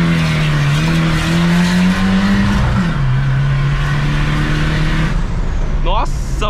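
A Ford Ranger turbo spins its tires on rock, engine roaring loud and close with a rising-and-dipping rev note and tire squeal, ending in a brief scrape.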